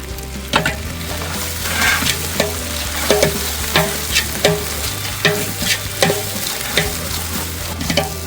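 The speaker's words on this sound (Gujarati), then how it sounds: "5 થી 6 મિનિટ સુધી ડુંગળીને તેલમાં બરોબર સાંતળવાની છે અને થોડો કલર આવી જાય ત્યાં સુધી આપણે એને સતત ને સતત ચમચાથી હલાવતા પણ રહેવાનું છે." Onions sauté in oil with a constant loud sizzle, while a spoon stirs them in repeated scraping strokes that knock against the pan at a steady rhythm.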